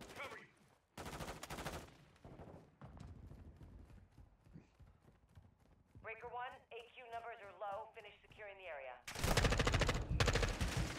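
Sentry turrets firing in Call of Duty: Modern Warfare 2 during a co-op defence mission on Mt. Zaya, rapid bursts of automatic gunfire with loud stretches at the start and end, mixed with other game sounds and voices.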